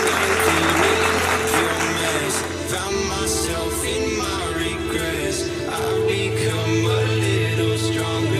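A crowd applauds student models showing batik designs at a local small-business showcase event, with dense, continuous clapping under loud background music throughout.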